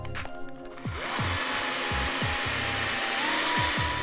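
A power drill spins a reamer into a fishing rod handle. After a brief quieter start, a high whirring grind runs steadily, with repeated low thumps and dips as the work is turned by hand. Nobody speaks.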